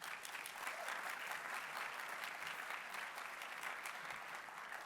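An audience applauds as a speaker is welcomed onto the stage, a dense, sustained burst of clapping from a large crowd that stays steady for the whole stretch.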